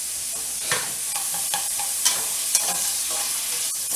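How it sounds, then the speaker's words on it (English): Carrots sauté in a pot with garlic, giving a steady close sizzle broken by scattered clicks and scrapes of stirring. "saute my carrots a little bit"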